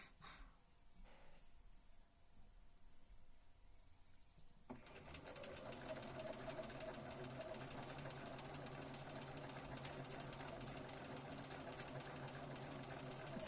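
A sewing machine runs steadily, stitching fabric for a Regency dress, starting after a quiet opening and continuing as a loud, continuous mechanical whir with no pauses.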